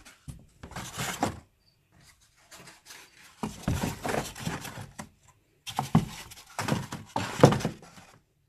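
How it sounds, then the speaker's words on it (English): Cardboard egg crates being set into a cricket egg-laying tub, giving several bursts of dry scraping, rubbing and light thunks, close and fairly loud, separated by short quiet gaps. "So you just put your egg crates in one corner"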